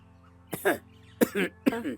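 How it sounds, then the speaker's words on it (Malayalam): Three short, harsh coughs close by, spaced about half a second apart over a low background hum. "എന്താ വല്ലാത്ത ചുമക്കുന്നല്ലോ"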